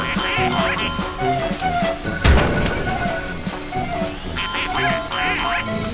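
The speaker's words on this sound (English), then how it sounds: "the ducks have moved elsewhere!" Repeated cartoonish duck quacks from Team Fortress 2 on a Halloween Doomsday server, coming in clustered bursts over a steady game soundscape, with a brief crash partway through.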